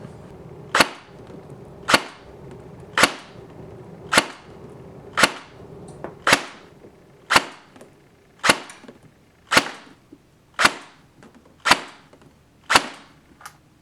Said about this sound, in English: Alright, let's go ahead and chrono this gun.